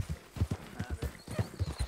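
Horse hooves clip-clop on the ground in Red Dead Redemption 2, a steady walking rhythm of close, distinct thuds with no voices.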